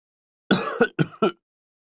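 A person clears their throat and coughs in a quick series of four short, close bursts against silence.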